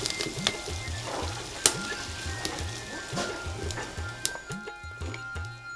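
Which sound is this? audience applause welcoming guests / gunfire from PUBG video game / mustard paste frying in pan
mustard paste frying in pan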